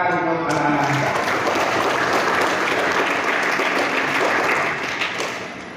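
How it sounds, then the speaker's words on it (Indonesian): An audience at a school Quran graduation ceremony applauds children on stage, a loud, dense burst of clapping following a voice over a sound system, holding steady before fading out near the end. "Tepuk tangan untuk anak-anak kita."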